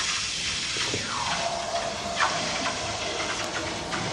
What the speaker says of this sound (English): now I'm going to place this gold bar into the vat of water